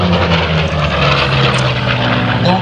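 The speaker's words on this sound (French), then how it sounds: "Un avion avec deux moteurs" A P-38 Lightning twin-engine propeller aircraft flies at the 2013 La Ferté-Alais airshow, its engines droning loud and steady with a throbbing low hum and a slight shifting tone as it passes nearby.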